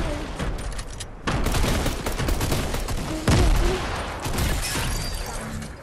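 Rapid assault rifle fire in a video game, loud, dense bursts of shots with booming hits running through most of the stretch, a brief lull near the start and a heavy burst midway.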